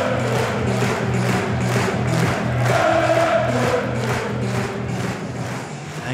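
Football supporters of Cambuur in a packed stadium roar and chant together, a steady loud crowd noise with rhythmic pulses running throughout.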